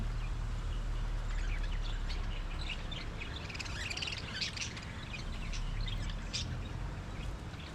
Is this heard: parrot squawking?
yes